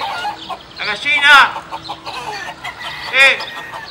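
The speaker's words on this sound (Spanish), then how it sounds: "se le escapó la gallina, jefe." Close, loud clucking and a couple of rising squawks from an escaped hen, with busy background noise and soft chatter mixed in.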